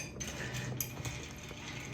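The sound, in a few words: stirring an Aviation cocktail with ice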